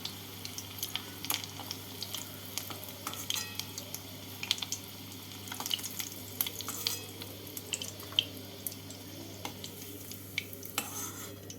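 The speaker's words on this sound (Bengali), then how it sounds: "কোপ্তাগুলো ভাজা হয়ে গেছে তুলে নিচ্ছি এইভাবে বাকি কোপ্তাগুলোকেও ভেজে নিতে হবে" Mutton koftas frying in oil in a pan, a constant low sizzle with frequent sharp clinks and scrapes of a utensil against the pan as the fried pieces are lifted out.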